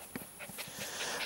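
A stressed dog on a night outing pants in quick, faint bursts with a soft whimper, heard at a distance against a steady background hiss.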